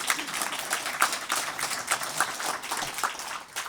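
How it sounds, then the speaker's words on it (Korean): Audience applause at a book launch ceremony in a hall, a steady wash of many hands clapping with scattered louder claps, moderately loud and continuous with no speech over it. "박수 치셔도 괜찮습니다."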